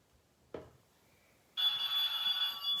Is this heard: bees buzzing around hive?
no